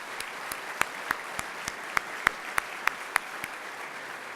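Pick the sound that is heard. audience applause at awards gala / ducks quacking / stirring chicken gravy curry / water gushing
audience applause at awards gala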